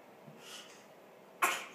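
An 11-month-old baby girl lets out a single sharp sneeze near the end, loud and close, after a stretch of quiet room sound.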